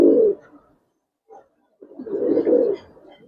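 Giribaz coloring pigeons coo in two close bursts of low, throaty burbling, separated by a short quiet gap with a faint murmur.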